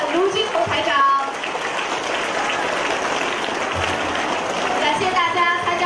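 An audience at a Buddhist gathering in Batam claps loudly and steadily, a dense sustained roar of hands. Voices and music tones come through over it at the start and end.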